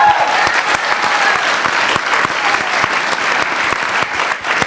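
A seated audience at a film Q&A with Jerry Lewis breaks into steady, dense applause, many hands clapping loudly and continuously throughout with no pause.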